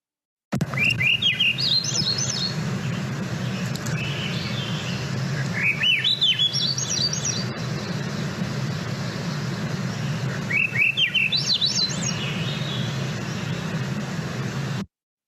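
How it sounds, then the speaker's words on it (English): A Swainson's thrush sings in a mountain forest, three spiraling phrases that climb upward in pitch, spaced several seconds apart, clear and moderately close over a constant low rumble of background noise. "Swainson's thrush doesn't have that opening note and they just go up the scale"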